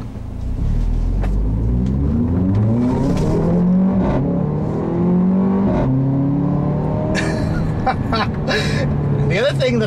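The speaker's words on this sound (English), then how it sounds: "that fart, crackle, burble noise that comes out of the exhaust when you shift" A 2015 Mercedes-Benz GLA45 AMG revs loud and close, its rising engine tones broken by sharp exhaust crackles and burbling pops as the dual-clutch gearbox upshifts.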